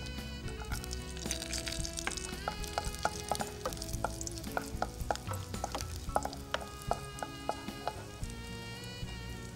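Cashew nuts and raisins frying in a pan, with a steady sizzle and soft crackle under scattered clinks and scraping of a spoon stirring, fairly close and moderate in level.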